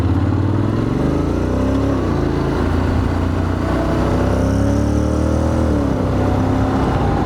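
2025 Honda X-ADV 750 riding slowly over gravel, a close, steady engine drone with slight rises in pitch as it shifts, continuous with a faint gritty rumble underneath.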